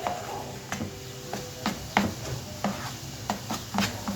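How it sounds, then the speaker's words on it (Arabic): Eggs stirred in a frying pan with a utensil, producing a steady series of scraping knocks roughly every half second over a soft sizzle, close and fairly loud. "نفضل نقلب"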